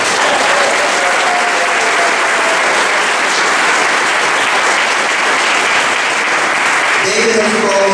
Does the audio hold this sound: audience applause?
yes